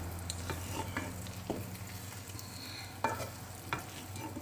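An egg fries in a pan, giving a soft continuous sizzle with occasional clicks and scrapes from a utensil, close and fairly quiet.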